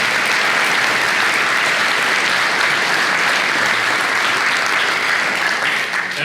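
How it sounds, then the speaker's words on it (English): A Hall of Fame induction ceremony at Coastal Carolina University draws sustained audience applause, a thick, even wash of clapping from a large crowd that carries on for several seconds. "Let's give them a round of applause."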